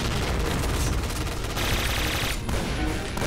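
Dense, continuous gunfire from teammates in the battle royale game PUBG, a steady loud barrage of overlapping shots lasting throughout without a break.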